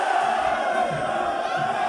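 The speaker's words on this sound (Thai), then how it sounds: "ดูลีลาการเชียร์มวยของ แดงผือใหญ่กับสอสิงสยามครับ" Fans cheering at a Thai boxing match, a steady roar of crowd voices chanting and shouting together, loud and sustained throughout.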